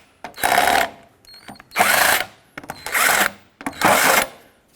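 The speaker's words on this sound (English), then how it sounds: "So with a 19mm socket, remove all of these" A power driver with a 19mm socket spins off wheel nut caps on a 2005-2010 Pontiac G6, four loud whirring bursts of about half a second each, separated by short pauses with small clicks and handling noises, close up and without talk.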